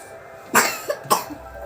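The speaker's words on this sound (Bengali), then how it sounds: "কাশি হচ্ছে যেতে হবে না" A child coughs two or three times in quick succession, close and fairly loud, with no talk in between.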